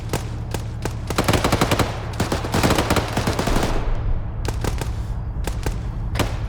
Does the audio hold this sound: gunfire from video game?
yes